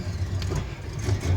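A Studebaker Hawk engine runs close up with a low, rough, throbby rumble that swells slightly as it is revved, and no one talks.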